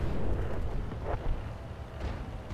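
Artillery explosions in a front-line war video game rumble loud and close, with a continuous heavy boom and rolling bursts that swell and fade.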